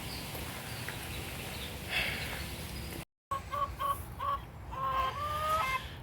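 Farmyard chickens clucking, with short repeated calls and a rising squawk after a brief gap, close and fairly clear over a steady outdoor background.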